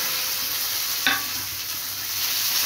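Mustard seeds, dry red chili, curry leaves and chana dal fry in hot oil for coconut chutney with a steady close sizzle. A single sharp crackle pops near the middle, and no voice is heard.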